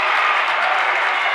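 A high school boys basketball crowd at a gym game cheers and claps steadily. The noise is a dense, loud roar of applause with no break.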